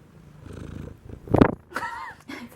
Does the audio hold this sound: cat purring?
yes